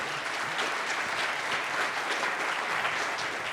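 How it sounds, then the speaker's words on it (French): Steady audience applause in a French television studio: dense, continuous clapping from a crowd, fairly loud and even throughout with no voices over it. "On peut l'applaudir, s'il vous plaît."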